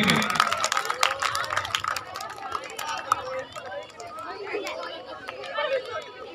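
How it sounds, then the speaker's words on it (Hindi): An audience claps to welcome a student onto a stage at a school event, a dense continuous patter of hands under loud chatter and a speaker's voice. "दिव्यांशी मंच में आएगी, तालियों से स्वागत करेंगे।"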